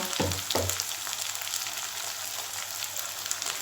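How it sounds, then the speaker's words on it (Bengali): Duck meat sizzling in a hot pan with a steady broadband hiss, plus a couple of low thumps near the start as the pieces settle; no one speaks. "মাংসটা আমি এমনি দিয়ে দেব দিয়ে ভালো করে ভেজে নেব"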